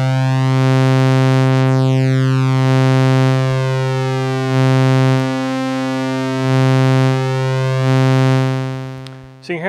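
A single Multimoog synthesizer oscillator, oscillator A, sounds alone as a loud, steady, buzzy tone rich in harmonics, with slow filter sweeps and small level swells across the sustained note before it cuts off at the end.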